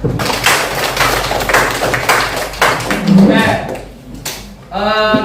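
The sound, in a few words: class applause for the group presentations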